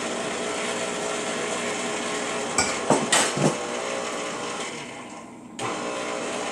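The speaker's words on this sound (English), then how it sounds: "I have this at the lowest speed of the stand-up mixer." A stand mixer runs at its lowest speed through cookie dough of flour, butter, eggs, sugar and baking soda, a steady close-up whir broken by a few clattering knocks against the bowl.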